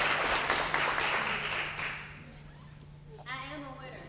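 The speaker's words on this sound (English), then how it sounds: "Y'all give her a round of applause." Audience applause at a motivational talk by a speaker, a loud burst of clapping that fades over about two seconds before a voice begins speaking over a low hum.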